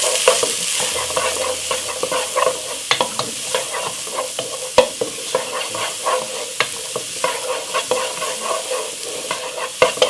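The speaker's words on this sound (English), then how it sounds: "and the garlic. Saute it up." Garlic and white onion sauté in a pan for Jamaican curry goat, a steady close sizzle broken by frequent scraping and knocking of a stirring utensil, with no talking.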